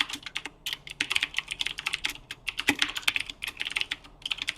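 Quick, irregular clatter of typing on an unfamiliar computer keyboard, bursts of close, crisp keystrokes with brief pauses between runs.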